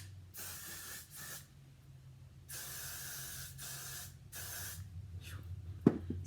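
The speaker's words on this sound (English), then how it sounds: "Now I'm going to take the spray" An aerosol can sprays in several sustained hissing bursts of about a second each, with short gaps between them, over a low steady hum, while getting ready for a murder mystery dinner.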